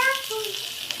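Curry leaves, green chili and ginger fry in hot oil with a soft crackling sizzle, close by, while a voice talks briefly at the start.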